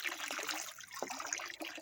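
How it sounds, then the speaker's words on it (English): Fresh water pouring into a backyard fish tank, a steady close splashing trickle with small gurgles and bubbling bursts, no voices. "I'm filling the thing back up right now with some fresh water"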